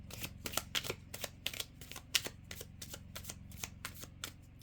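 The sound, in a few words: shuffling affirmation cards from a deck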